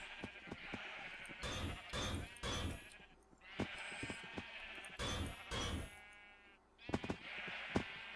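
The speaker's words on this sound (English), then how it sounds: "Get out of my way, sheep." Sheep in the video game Minecraft bleat repeatedly, several short wavering calls close by with gaps between them.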